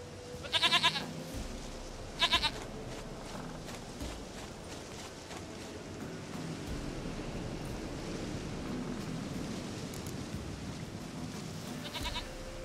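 Goat bleats in The Witcher 3 video game, a few short quavering calls near the start, another around two seconds and one more near the end, over steady outdoor ambience.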